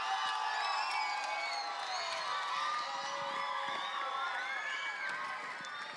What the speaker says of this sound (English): So what I'd love to hear is the loudest cheer you can for every single team in here.